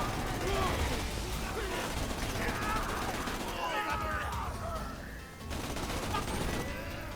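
Bursts of gunfire from the Sawbar rifle in Borderlands 2 rattle in rapid, dense volleys, with a brief lull before the shooting resumes, mixed with game effects.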